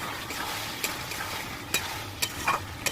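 Potatoes and pointed gourd being stirred in a cooking pot, a steady low sizzle with a few sharp spoon scrapes and knocks spaced irregularly, close and fairly quiet, no talking.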